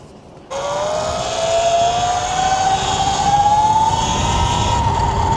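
Electric bike with a 48-tooth sprocket ridden at night: a steady motor whine that starts abruptly and slowly climbs in pitch as the bike gathers speed, loud and close.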